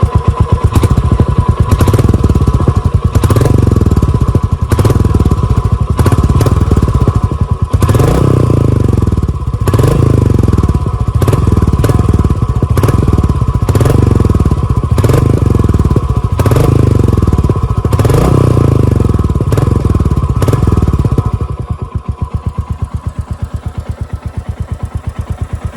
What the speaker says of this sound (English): let me quickly show you the exhaust note.